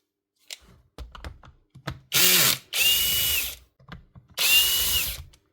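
A power tool drives out screws while a Milwaukee hammer drill is taken apart, giving three loud, sustained whirring bursts with ratcheting clicks and small handling knocks between them, close by.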